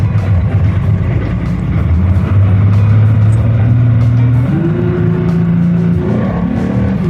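A dinghy outboard motor runs loud and close on a rough test run, its pitch wavering and climbing in uneven steps as it revs up, with no voices over it.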